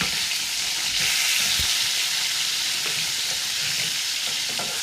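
Fish pieces sizzle crisply in oil in a pan, a loud, continuous close crackle with occasional soft knocks of stirring and no voices.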